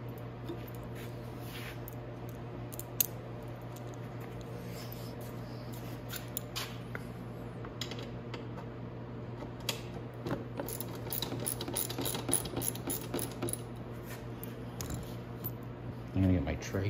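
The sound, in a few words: 10 mm ratchet removing bolts on electric ATV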